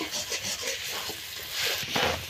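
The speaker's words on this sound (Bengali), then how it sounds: "এইভাবে মশলাগুলোকে আমি ভালোভাবে কষিয়ে নেব।" Spice paste with chili powder and salt is stirred and fried in a pan, giving a continuous close scraping and sizzling texture with rubbing strokes that swell toward the end.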